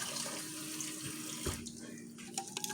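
Water runs steadily from a tap in a continuous hiss, with a few faint clinks near the end.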